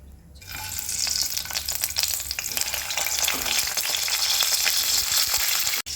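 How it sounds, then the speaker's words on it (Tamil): Eggplant pieces fry in hot oil for a Tamil-style oil brinjal curry, giving a steady, loud, dense sizzle with crackling pops throughout and no talk. "இப்போ வந்து கத்திரிக்காய் வந்து எண்ணெயில் நல்லா வெந்துட்டுருக்கு."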